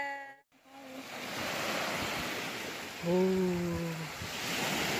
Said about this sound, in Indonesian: Pantai di waktu malam.